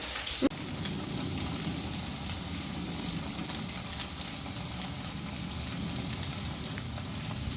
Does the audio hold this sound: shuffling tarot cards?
no